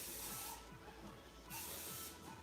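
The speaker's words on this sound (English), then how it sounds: "what do I just spray the whole thing? Yeah, spray inside." Two long bursts of aerosol spray hiss, each lasting about a second, with a low rumble and faint clatter underneath.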